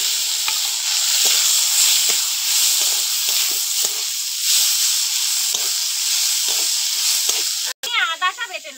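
Lentils dropped into hot oil with bay leaf, whole cumin and dried chilli, giving a loud, dense, continuous sizzle close up, flecked with small pops and crackles, and a brief clatter near the end.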